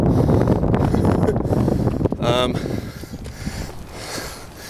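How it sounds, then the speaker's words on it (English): Heavy wind buffets the microphone with a loud, low rumble, easing somewhat toward the end while a person talks underneath. "Oh, it's really windy."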